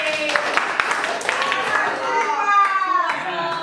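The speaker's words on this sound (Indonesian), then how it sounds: "Tepuk tangan." A class of junior high school children claps together during a science lesson, with a short burst of hand claps mixed with children's voices and chatter.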